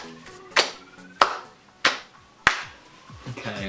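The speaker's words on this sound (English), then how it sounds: "Slow clap." A single person gives a sarcastic slow clap: four crisp, evenly spaced hand claps roughly half a second apart, close and loud, with a quiet pause afterward.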